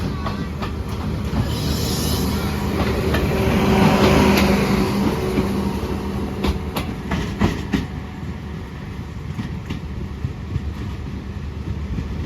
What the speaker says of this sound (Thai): ขบวนรถมุ่งหน้าสู่สถานีกรุงเทพหัวลำโพง นะครับ